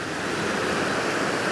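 A waterfall at the Lurg Burn pours in a steady, dense rushing roar, constant and fairly close, with no voices.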